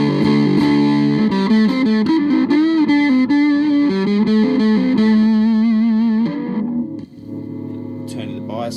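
A Retro Effects fuzz pedal pushes a very strong, grating distortion tone, loud and sustained through a run of held and shifting guitar notes before thinning out and cutting off near the end.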